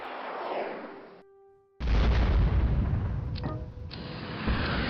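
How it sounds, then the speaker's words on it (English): Missile launched in the naval video game Battle of Alaska: a dull whoosh, a brief near-silent gap with faint tones, then a loud, sustained roaring burst that rumbles for several seconds. "Yeah, let's give him a missile."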